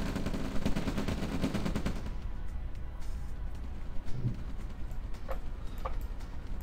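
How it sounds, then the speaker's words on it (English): Artillery fires in the OpenRA strategy game as dense, rapid bursts of booming shots for about two seconds, then fades to quieter scattered battle noise with a few sharp impacts. "that's an artillery"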